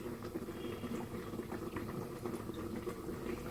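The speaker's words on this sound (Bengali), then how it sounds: "কড়াইতে তেল দিয়ে দিচ্ছি" Oil goes into a hot kadai on a lit gas stove before cooking jackfruit with prawns, giving a soft, steady, bubbling sizzle that stays faint and close throughout, with no talking.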